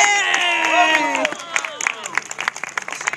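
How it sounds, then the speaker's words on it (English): A small crowd applauds a new pirate, with scattered claps and cheering breaking out after a loud, sustained group shout. "Round of applause for a new pirate."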